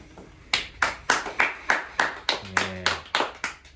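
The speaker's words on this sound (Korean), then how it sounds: "박수!" A group at a Bible doctrine school camp claps in slow, even unison, about a dozen sharp beats roughly half a second apart, loud and near.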